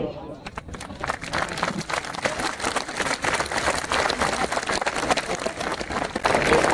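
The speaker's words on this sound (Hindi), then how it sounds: "इस असाधारण विरासत की गवाही दीजिए अपनी तालियों से" A large crowd at a ceremony marking the Rajputana Rifles regiment's 250th anniversary breaks into sustained applause that swells and grows louder toward the end, with a voice speaking over the clapping.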